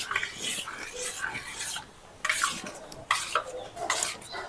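A spoon stirs rock sugar into bael fruit sherbet in a pot or bowl, giving quiet gritty scraping and clinking strokes in short bursts, close and soft.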